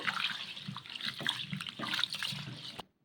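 Rice is rinsed by hand in water in a kitchen, making steady close swishing and sloshing for nearly three seconds before stopping abruptly.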